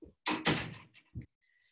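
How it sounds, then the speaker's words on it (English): An indoor door is shut with a single soft thunk after brief broadband movement noise, followed by a faint click and quiet room tone, with no one speaking. "I just want to shut the door."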